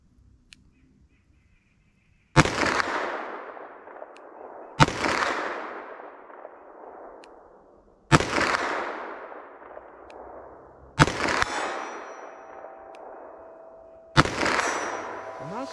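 .357 Magnum Buffalo Bore Barnes low-flash rounds are fired five times, evenly spaced about three seconds apart, each a loud, sharp report followed by a long ringing echo that fades before the next shot.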